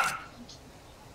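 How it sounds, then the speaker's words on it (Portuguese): A dog in the video game Fortnite gives short, fairly faint barks, one at the very start and another cutting in at the end, with a quiet gap between them. "O cachorro do cara."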